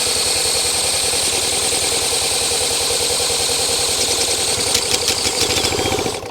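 Previously seized Honda CL90 motorcycle engine sputters into life with carb cleaner in the float bowl, a close, loud, rapid rattling putter that runs steadily and gets rougher before cutting out at the end.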